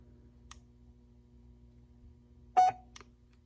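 A DiKaou portable outdoor wireless speaker with LED light gives a short, clear beep as it powers on, preceded by a faint click in an otherwise quiet room.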